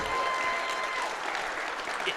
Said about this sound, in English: give Zevlak one more round of applause for his incredible effort